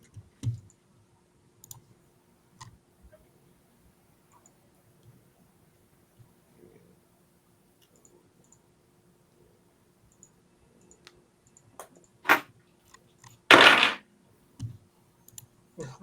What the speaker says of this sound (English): That's a lot of dice.